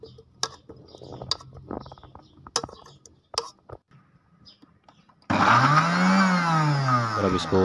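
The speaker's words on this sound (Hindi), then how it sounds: "और अब इसको ग्राइंड कर लें" An electric blender starts abruptly and grinds fresh strawberries in a jug for lemonade, a loud, close, steady whirring roar whose pitch swoops as the fruit breaks down, following a series of light kitchen clicks and knocks.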